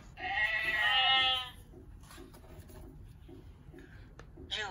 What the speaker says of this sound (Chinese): 绵羊，绵羊